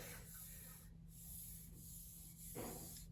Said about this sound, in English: I finished wet sanding it to 1500 grit